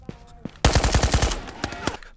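Rapid automatic gunfire in the game Ghosts of Tabor, a loud close burst of about eight shots after faint earlier sounds, followed by a couple of scattered single shots.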